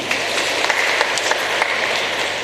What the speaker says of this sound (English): Please, Paul, give him a big clap.